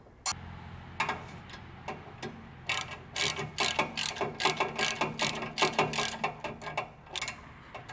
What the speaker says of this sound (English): sure you tighten everything up evenly so that you don't put any unnecessary torque anywhere